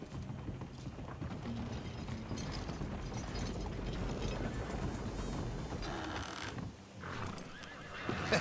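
A horse in Red Dead Redemption 2 whinnies and neighs while its hooves clop steadily, close and fairly loud over continuous game ambience, with a ratcheting mechanical rattle mixed in.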